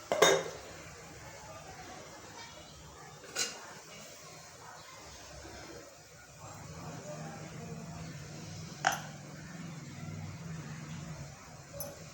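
Hot idli plates lifted one by one out of a steamer, with a few sharp metallic clinks of stainless steel over a low hiss, fairly close and sparse.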